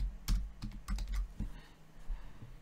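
Typing on a computer keyboard, short bursts of close key clicks with brief pauses in between.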